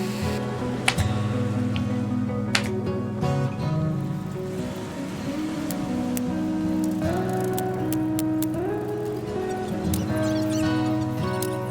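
Heavy rain drums on a closed camper van, a steady, dense patter heard from inside that runs throughout beneath a sustained tonal background, with no talking.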